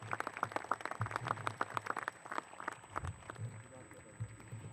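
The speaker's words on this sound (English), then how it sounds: "let's give them a round of applause" Audience at a school district graduation ceremony gives a round of applause, distinct claps in a quick irregular patter that thin out midway, with voices murmuring underneath.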